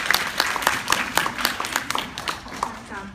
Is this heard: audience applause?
yes